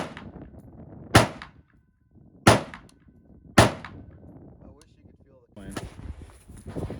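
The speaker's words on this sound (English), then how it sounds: "let's just crack off some shots and see if we can't make a hole" Three sharp, loud rifle shots crack out at an outdoor shooting range in nasty weather, spaced about a second apart, with quieter wind and handling noise between and after them.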